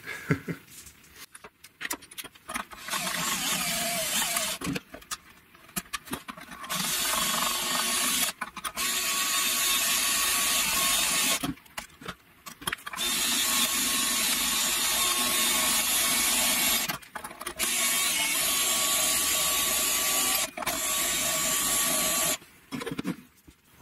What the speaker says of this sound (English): it's time to take these strings off and give this guitar a good cleaning